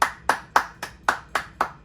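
Eight sharp hand claps in a steady, even rhythm, each crisp and close, with short pauses between and no voices.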